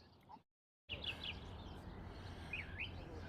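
Birdsong chirps faintly outdoors beside a mid-rise condo in Las Vegas over steady background ambience, a few short twittering calls after a brief silent gap.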